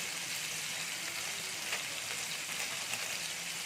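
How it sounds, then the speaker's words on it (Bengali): Potato pieces with salt and turmeric fry in hot oil, a steady, even hiss of sizzling that holds at one level throughout. "এটাকে আমি একটু ভেজে নেবো আমি একটু লাল করে ভেজে নেবো"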